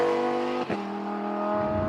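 A Lamborghini Huracán EVO RWD with its V10 engine revving hard, a loud close harmonic howl that drops briefly at a gear change and then climbs steadily again under load.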